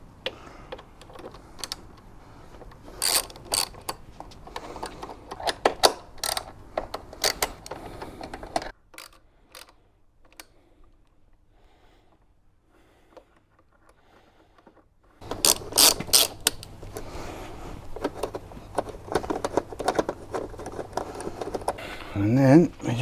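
Ratchet clicking as it loosens bolts on a Honda Fireblade motorcycle that is 18 years old. Bursts of rapid clicks come and go in two spells with a quiet gap between them, heard close up and with no talking.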